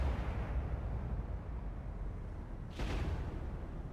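A missile strike explosion in the naval combat game Cold Waters: a low, muffled rumbling boom with a sharper burst partway through, heard fairly quietly over steady background noise.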